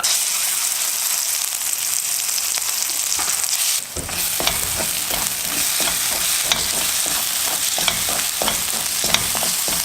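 Cumin and a ground spice paste sautéing in a pan for a vegetable sabji: a loud, dense, continuous sizzle that briefly dips, then resumes with rhythmic spatula scrapes and stirring, no talking.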